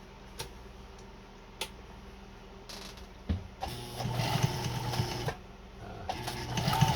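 A Pfaff 130 sewing machine with its presser foot pressure backed off runs in short bursts as fabric is moved by hand, starting with a few isolated ticks and building into a steady, close mechanical whirring.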